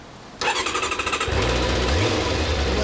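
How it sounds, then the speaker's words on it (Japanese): A 2003 GZR400 motorcycle engine cranks with a rapid chugging, then catches and runs loudly with a deep, rough idle and a short rev. "エンジン音聞かせてもらえるかな"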